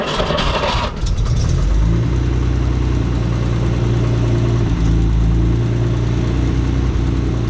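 A cold-started 1970 Signal Red Jaguar E-Type Series 2 fixed-head coupe engine idles loud and close, a steady deep rumble with a brief louder burst at the start, no talking.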